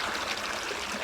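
Steady rushing and trickling water poured into a crack in bedrock, close and continuous, with no voices.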